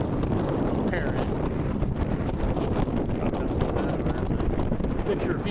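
Steady wind roars across the microphone aboard a sailboat underway at about five knots, a dense continuous rush with faint water and hull noise beneath, no clear talk.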